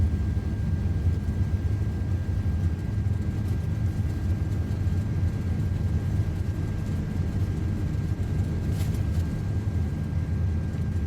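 Simulated Aer Lingus Airbus A330, heavy, on its takeoff roll at Dublin in Microsoft Flight Simulator 2024, producing a steady low engine rumble with a faint high whine, no voices.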